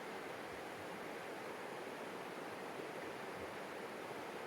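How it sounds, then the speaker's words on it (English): Steady, even rush of a trail stream splitting around a small island from two channels, close by and continuous with no voices. "It's really cool over there how the water is coming from 2 different places."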